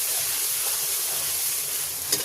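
Potatoes with ginger, garlic and spices frying in a pan, a steady close sizzle and hiss with a single louder stir scrape near the end and no voices.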